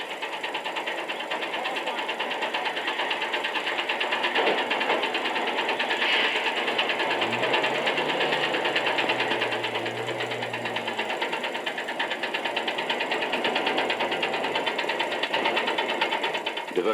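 The engine of an AMX-10P tracked amphibious armoured infantry vehicle running steadily, a constant mechanical drone with a dense high whine, heard under someone narrating in French.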